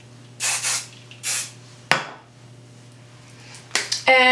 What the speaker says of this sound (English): take again my Kenra volume spray and give it a good spray all over